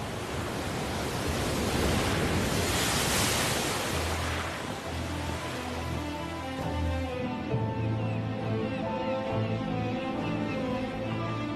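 Rough North Sea waves break and surge in a continuous, loud wash around the island of Helgoland, with a broadband roar and no voices.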